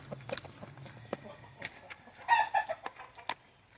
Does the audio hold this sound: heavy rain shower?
no